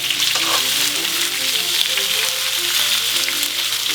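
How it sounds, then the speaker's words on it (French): Bell peppers frying in a thin layer of duck fat in a very hot pan, a steady, dense sizzle that runs without a break throughout, close and fairly loud, with faint stirring underneath. "La poêle est à 230, graisse de canard, un petit fond, poivron comme ça. Et on va les faire suer jusqu'à une légère coloration."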